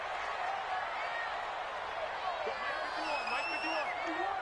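Stadium crowd noise in a PS4 football video game, a steady wide roar of cheering and whooping, with a few rising whistle-like tones toward the end.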